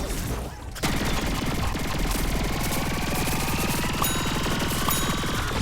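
Rapid automatic fire from the mech's primary weapon in Plants vs Zombies Garden Warfare 2, a dense continuous stream of shots after a brief pause, loud and close with ringing game effects layered over it.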